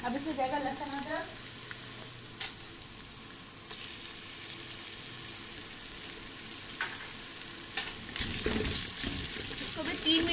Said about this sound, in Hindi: इसको भी 3 मिनट तक बस भूनेंगे।